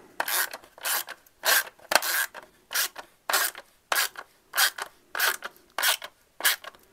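Screwdriver tightening a screw into a plastic blinker mount on a BMW R1150 RT motorcycle, a close, steady series of about a dozen short rasping ratchet-like strokes in even rhythm, with no talking.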